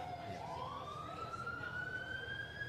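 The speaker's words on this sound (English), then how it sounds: "It looks like emergency services coming to remove the commentary team." Emergency vehicle siren at a tennis venue during a vision-impaired singles final, a steady rising wail sweeping upward and sustained, moderately loud over a busy crowd-like background.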